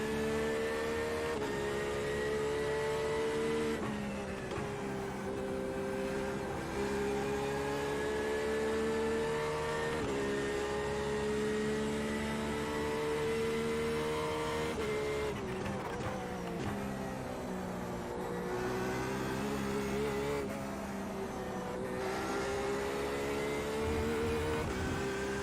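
Race car engine in a racing video game at Spa, loud and continuous, revving with shifting pitch and several abrupt drops as it downshifts too often, with no talk.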